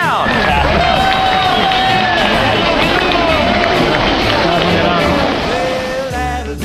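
A crowd in Rome cheers and shouts for a just-married couple, with loud overlapping voices ringing out in a lively open-air babble that eases slightly at the very end.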